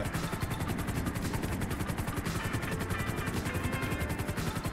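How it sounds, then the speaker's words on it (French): Helicopters in GTA 5, a rapid rhythmic rotor thumping that stays loud and steady throughout, with faint gunfire-like pops mixed in. "Mais t'as deux hélicos à gauche."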